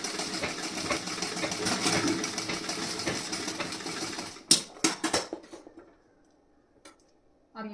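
A sewing machine runs steadily while stitching the front part of a blouse, then stops, followed by a few sharp clicks and knocks and near silence.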